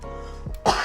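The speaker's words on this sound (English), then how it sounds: "cough" A single sharp, forceful cough bursts out close to the microphone, with a brief throat sound just before it.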